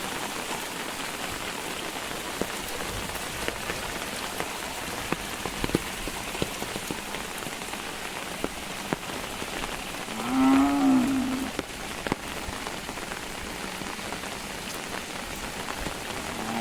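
Steady first-of-season rain patters and hisses across nearby surfaces in a Konkan village, with a distant cow lowing briefly midway through.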